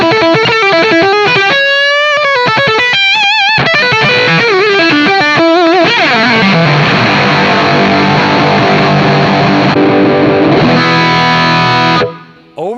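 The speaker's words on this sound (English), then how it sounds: "Overdrive with distortion." Electric guitar played through a Blackstar amp head and cabinet, set to overdrive with distortion stacked on top; loud, saturated riffing with quick bent notes, then a sustained, heavily distorted chord ringing out before cutting off near the end.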